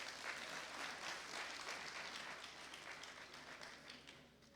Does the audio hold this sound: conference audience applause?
yes